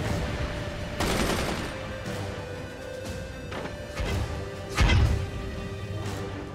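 Gunfire and mortar fire in the Forts strategy game, rattling bursts and repeated sharp shots with a heavier boom near the end, fairly loud and continuous.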